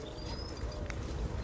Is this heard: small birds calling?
yes